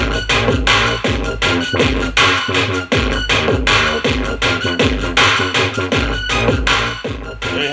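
Loud, dense dubstep beat made in a beatmaking challenge, with heavy pounding low-end hits, snappy drums and busy layered synths running continuously with no voice.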